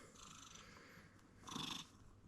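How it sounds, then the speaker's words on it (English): A snowshoe cat with blue eyes purring softly and steadily up close, a low continuous rumble that swells briefly louder near the end. "He's all happy because he's purring."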